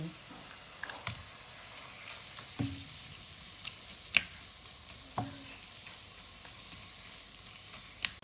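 Ground pork or beef frying in a pan with softened tomatoes for sautéed cabbage, a steady low sizzle with scattered clicks and scrapes of stirring, fairly quiet and continuous.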